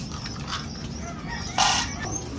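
Breeder chickens cluck softly in a farm pen, and one louder, rough call cuts through briefly, with no talking.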